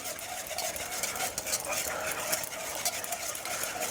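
Chimayo red chile barbecue sauce ingredients with vinegar being whisked together in a pot, a continuous brisk scraping and swishing close by, with someone talking over it.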